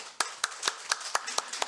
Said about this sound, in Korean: 우리 격려 박수 하겠습니다.